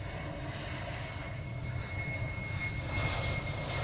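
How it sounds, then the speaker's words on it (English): A Falcon business jet arriving at the Royal International Air Tattoo air show, its engines producing a steady, loud roar with a broad rumbling low end that swells slightly toward the end. "Can anyone in the trailer tell me what aircraft this is? It is a Falcon."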